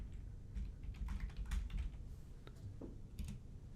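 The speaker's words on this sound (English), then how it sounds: "type in contingency." Someone types a single word into a field on a computer keyboard, producing a short, quiet flurry of key clicks over a low room hum, with no speech.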